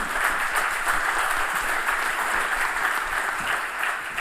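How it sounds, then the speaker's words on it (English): An audience at an academic medical symposium applauds, even sustained clapping from a room full of people with no talk over it. "Another round of applause."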